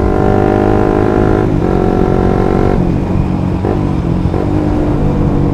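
A clutch-equipped motorcycle held at a slight throttle while braking, a loud, close, steady engine drone whose pitch dips in several small steps, with no voices.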